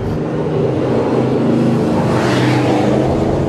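A Vauxhall VXR8 GTS races on track at Goodwood, its loud V8 engine roaring close and steady with a rising, accelerating pitch toward the end.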